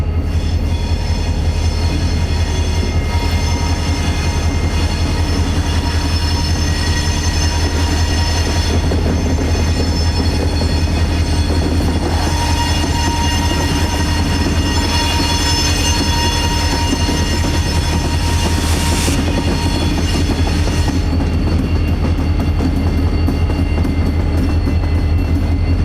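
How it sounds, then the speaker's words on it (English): A CSX southbound freight train passes close by on the M&M Subdivision, a loud continuous rumble of rolling cars and wheels lasting throughout, with faint squealing tones above it and no talk. "waited with me for the southbound train to clear the Y"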